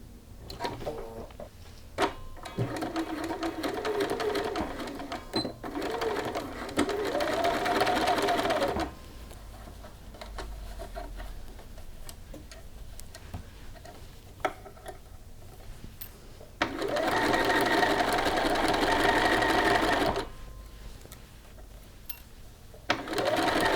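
A sewing machine stitches a shirt cuff in two fast, loud whirring bursts separated by quieter pauses with handling clicks and taps.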